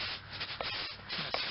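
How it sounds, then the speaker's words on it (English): A stiff broom scrubs cleaner into an asphalt driveway before seal coating, giving a rough, uneven scraping with repeated strokes and a couple of sharper scuffs. "go with a brush like this, go with a broom like this"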